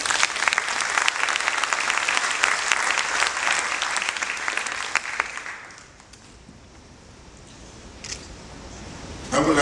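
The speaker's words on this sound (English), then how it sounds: "I would like a round of applause for the First Ladies" An audience at a wildlife protection meeting applauds the First Ladies, with steady clapping that holds for about five seconds and then fades into quiet room tone, followed by a brief clatter near the end.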